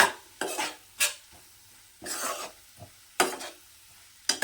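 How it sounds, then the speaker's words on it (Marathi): A spoon scrapes and stirs red chilli powder in a pan in short, repeated strokes separated by brief pauses, with a faint sizzle underneath. "हे व्यवस्थित असं मिक्स करून घेऊया"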